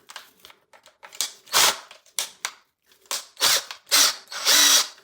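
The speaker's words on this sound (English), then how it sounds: "I'm going to be using my Bill Meyer cordless drill and a brush that will go with it." A cordless drill fitted with a scrub brush whirs in short repeated bursts against a shower surface, spinning up and stopping in an uneven rhythm, close and fairly loud.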